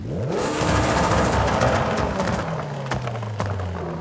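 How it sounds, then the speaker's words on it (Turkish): Car engine fitted with an anti-lag turbo in the video game Forza Horizon 5 revs loudly, then crackles and pops with sharp bangs as the revs drop. "Gecikme önleyici turboyu taktığımızda araba çatara patara yapıyor."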